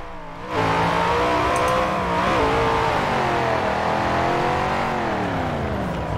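A simulated car engine in the racing game Forza Horizon 4 revs up sharply, then holds a steady loud drone with pitch rising and falling gently as the car cruises, with no talk over it.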